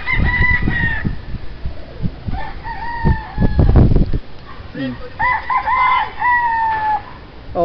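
Gamecocks crowing nearby in repeated long calls with pauses between them, mixed with some clucking and a burst of rustling or handling noise midway.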